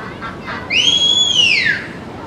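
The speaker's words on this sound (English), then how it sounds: "And that's her lie down whistle." A sheepdog handler's lie-down whistle at a stock dog demonstration with ducks at the Calgary Stampede: one loud, clear whistle that rises, holds level, then slides down, about a second long, over faint background noise.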